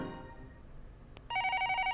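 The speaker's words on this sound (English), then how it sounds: "After a while, I finally realize a phone is ringing" Telephone starts ringing at night in the Higurashi visual novel, a bright trilling electronic ring that bursts in loudly after a quieter lead-in and carries on steadily to the end.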